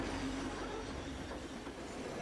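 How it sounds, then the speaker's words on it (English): A passenger train travelling through hilly tea plantation country in Sri Lanka, heard as a brief, steady rumble of rolling wheels with no voices. "We decided to go by train"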